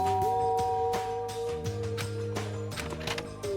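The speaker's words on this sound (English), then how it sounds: "There's a doorbell next to the door. I guess I'll use that." A doorbell in the Danganronpa video game chimes in a steady sustained tone pattern, stepping between pitches over a few seconds, clear and prominent with light game background sounds.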